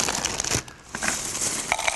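Dry breakfast cereal, about a cup, tipped into a blender, giving crinkly, rattling pours in short bursts with a pause midway, fairly close and moderately loud, no talk.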